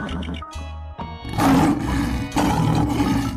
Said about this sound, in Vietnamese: Con sư tử.